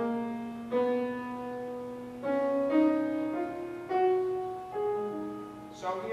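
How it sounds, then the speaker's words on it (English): A minor scale played on a melodic instrument, notes held about a second each with bright overtones, climbing then turning back down, clear and alone without any talking. "But when I play the minor scale, it sounds like this."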